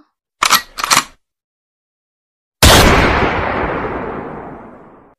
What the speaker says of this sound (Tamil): ஜியோப் கன் எடுத்து ஷூட் பண்ணுறான்